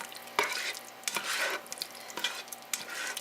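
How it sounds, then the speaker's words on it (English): A spoon scrapes and stirs through simmering homemade tomato soup in a pot, giving a steady soft sizzle broken by sharp knocks against the pot. "So I'm going to stir this around for about a couple of minutes until some of the liquid burns off"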